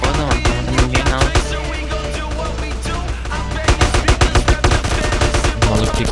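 Rapid gunshots in GTA San Andreas Multiplayer crack out in fast repeated volleys, sharp and loud, with a brief lull before another dense string of shots.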